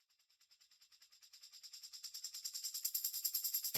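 Raw recording of a shaker playing a rapid, even stream of crisp rattling strokes that gradually swell from faint to louder, heard alone and ending with a short low thump.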